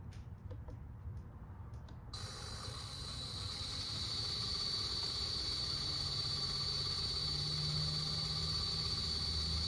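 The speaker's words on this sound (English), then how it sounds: "Here, I will run my motor at 1000 RPMs." An electric motor driven by an ABB ACS380 drive spins up to 1000 RPM: a faint ticking gives way to a steady hum with a high whine that holds evenly to the end.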